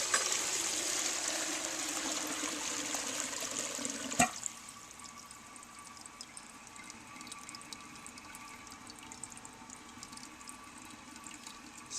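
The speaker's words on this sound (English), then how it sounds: "Now the tank is full. Let's see what happens when we try to flush it." A toilet flushes after its tank was rebuilt, a steady broad rush of draining water that stops abruptly partway through, leaving a quieter trickle and hiss as the bowl refills.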